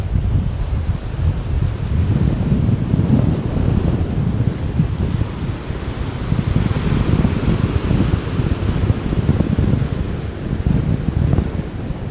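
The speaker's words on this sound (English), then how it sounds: "I'm just watching the waves coming in." Ocean surf rolls in continuously at Achmelvich in North Assynt, Scotland, in stormy December weather, a broad wash of breaking waves mixed with gusty wind buffeting the microphone.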